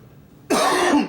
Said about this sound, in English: I got this weird cough that won't go away